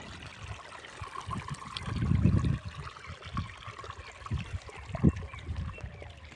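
Canal water trickling and gurgling steadily in an open channel, a low continuous flow with a few louder splashes, outdoors with no talking.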